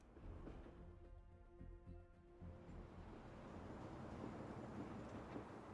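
Train in the video game Final Fantasy VII Remake, a rolling rumble with rhythmic clanking and tonal mechanical hum that gives way to a broad steady roar, heard alone at moderate level.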